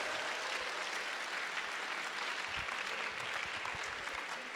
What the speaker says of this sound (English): can we please have a huge, huge round of applause for the sponsors?